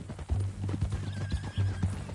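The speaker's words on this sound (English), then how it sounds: "That a new horse?" Horse hooves clip-clopping in a steady rhythm with a whinny breaking through, from a horse in Red Dead Redemption 2, close and clear with no talk.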